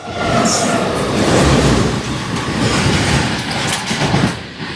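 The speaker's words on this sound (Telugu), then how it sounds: "అక్కడ ఏదో గూడ్స్ బండి వెళ్తున్నాడు" Heavy rumble and rhythmic clatter of a freight train rolling past near a station, loud and continuous.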